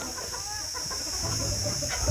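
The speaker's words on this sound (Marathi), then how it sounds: "हे आपल्या गावरान कोंबड्या आहेत." Desi country chickens cluck and murmur close by, soft repeated calls over a steady outdoor hum with a high constant whine.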